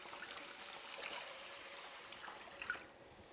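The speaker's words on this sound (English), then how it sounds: "Now we're going to add 1 liter or 4 cups of beef broth or stock." Beef broth pours into a pot for one-pot stroganoff, making a soft, continuous liquid trickle and splash that stays faint and close, tapering off at the end.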